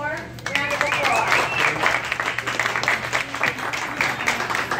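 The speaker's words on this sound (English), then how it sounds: "Let's give them a warm round of applause." A warm round of applause from a crowd at the grand opening of the Bell Farms store in Belleville. Steady clapping rises after a moment and runs under voices and cheering.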